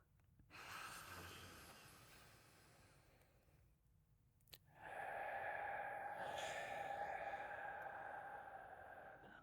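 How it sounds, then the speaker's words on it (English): Slow, deep breaths in and out during a relaxation exercise, a long airy inhale followed by a brief pause and a fuller exhale, close and soft, with no talk. "let's do a couple of those breaths."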